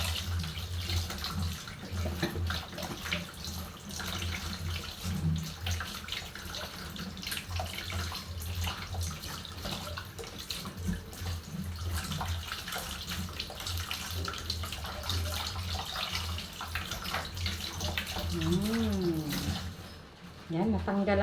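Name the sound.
water running while washing milkfish (bangus)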